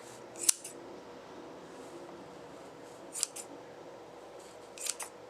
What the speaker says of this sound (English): you're going to take your scissors and you're going to cut through all of these little loops